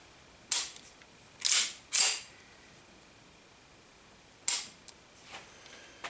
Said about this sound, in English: Dry fire it.